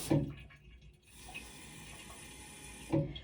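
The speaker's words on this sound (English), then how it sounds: "I'm just gonna put my water in all the way to the top" Water poured into a container to fill it to the top, a soft steady trickle with brief louder splashes at the start and end, quiet and close.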